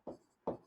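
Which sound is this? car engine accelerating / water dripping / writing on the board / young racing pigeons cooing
writing on the board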